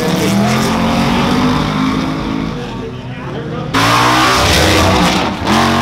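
A Pontiac race car engine revs loudly at a Roadkill Nights drag event, a dense sustained roar that surges sharply louder near the end, with crowd and announcer voices mixed underneath.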